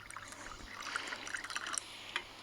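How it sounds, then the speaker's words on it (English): Water is poured from an enamel mug into a camping kettle outdoors, making a quiet, close trickle with scattered splashes and small clinks. It stays faint throughout and ends in a sharp tap. "pour that into our kettle"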